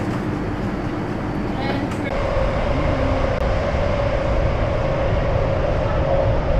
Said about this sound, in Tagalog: Nasa train na tayo.